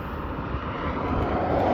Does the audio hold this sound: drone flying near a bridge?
yes